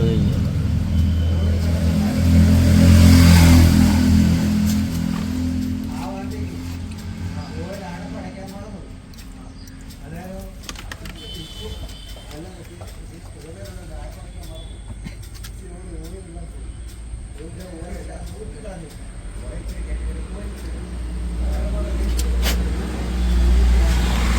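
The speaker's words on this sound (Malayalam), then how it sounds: "വണ്ടി സ്റ്റാർട്ട് ചെയ്തിട്ടുണ്ട്" A vehicle engine runs after starting, holding a steady low rumble that swells at the start and again near the end, while people talk over it.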